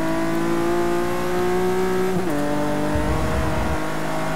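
GT3 race car engine in Forza Motorsport 6 at the British GT round at Silverstone GP, a steady loud droning whine that shifts pitch as the car changes gear mid-run, with another car's engine running close alongside.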